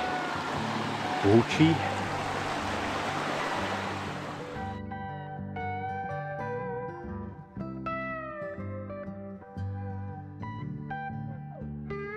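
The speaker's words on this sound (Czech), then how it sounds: "A řeka hučí" Sázava river rushing in a steady broadband roar for about four seconds, then giving way to music with sustained tones.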